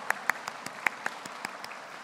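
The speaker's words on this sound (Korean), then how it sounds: "박수를 쳐주시면서요, 서로에게 격려해 주시면서요" A church congregation claps during a Korean thanksgiving service, heard as a handful of sparse, separate claps spread across two seconds at moderate distance with no voices.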